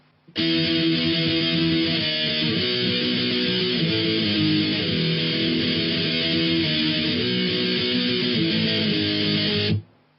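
Distorted electric guitar power chords play an intro riff, sustained and loud for nearly ten seconds with shifting chord changes, then stopping abruptly.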